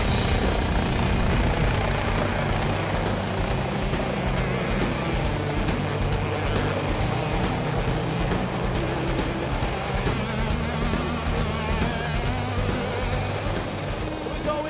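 Steady loud whirring rotor and engine drone runs throughout with no break, a dense mechanical rumble like a helicopter heard from close by.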